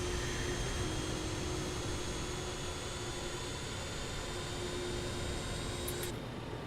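Avro RJ100 jet engines cruising at altitude in a flight simulator give a steady, breathy roar like a hair dryer, with a constant faint whine and no break in the sound.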